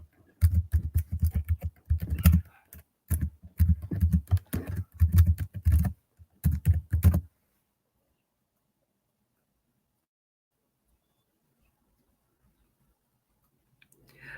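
Rapid typing on a computer keyboard, close and clicky, in quick bursts for about seven seconds before stopping into near silence.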